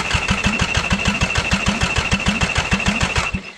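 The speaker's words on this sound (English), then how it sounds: "And if we crank this motor over right now" A Lexus LS200 with a 3S-GE Beams engine cranks over on the starter in a fast, even rhythmic chug for several seconds without catching, close and loud, with no talk.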